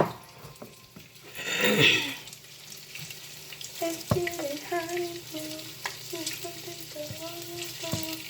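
Bacon sizzles in a frying pan in a home kitchen, swelling into a brief louder hiss, then settling into a soft sizzle broken by clinks and scraping utensil taps.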